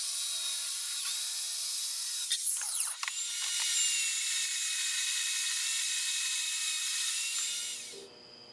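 Power saw ripping plywood sheets for shelf end supports, a continuous high whining buzz under a strained cutting tone, with a few knocks partway through, then winding down abruptly at the end.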